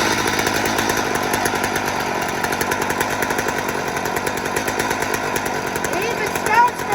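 A 2019 Stihl MS250 Wood Boss chainsaw runs steadily at idle with a rapid, buzzing two-stroke rattle, close and fairly loud, with a brief engine blip near the end.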